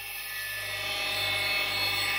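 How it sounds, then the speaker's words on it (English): A big coarse-grit diamond wheel grinds and shapes jade, giving a steady high whining hiss that grows slightly louder as the stone presses in, with no talk. "It is quite fast, being such a big wheel, and being a coarse grit diamond, but it's just in order to sort of shape them out quite quickly."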